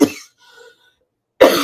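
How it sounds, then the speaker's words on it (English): Two sharp coughs from a woman, one at the start and another after a short quiet pause, close and loud. "I have to cough in your faces"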